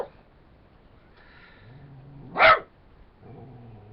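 A single sharp dog bark rings out at night, fairly close, against a quiet background with faint low murmuring before and after.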